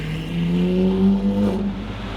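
Lamborghini Aventador SVJ driving with its engine cover removed, a loud steady engine drone with rising harmonic tones, close and continuous, with no talking.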